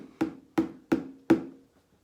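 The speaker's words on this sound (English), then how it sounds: "Now, that's the sound the drum makes." Four evenly spaced drum hits ring out alone, each a sharp thump with a short decaying tail, clear and close.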